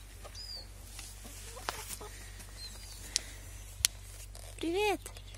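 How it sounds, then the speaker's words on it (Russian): Chickens on a rural homestead in the Onega Pomorye, Arkhangelsk region, give a few short clucks amid quiet outdoor ambience, with one louder call near the end and a low steady hum underneath. "И у них есть курочки."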